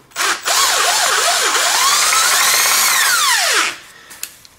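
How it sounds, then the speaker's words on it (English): An electric drill whines loudly for about three seconds while replacing a BMW 3 Series starter motor, its pitch rising and dipping as it spins up and winds down. "now I use a little bit electric drill"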